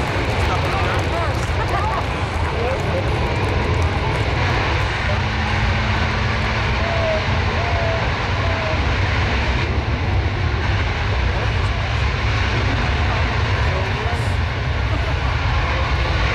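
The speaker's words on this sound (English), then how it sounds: "There are the engine thrust reversers being deployed." C-17 Globemaster III military transport landing at an air expo with engine thrust reversers deployed, a loud continuous jet roar and rumble that persists throughout, with faint voices nearby.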